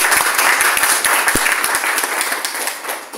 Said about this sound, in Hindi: आप खुद अपने लिए एक बार ताली बजाइए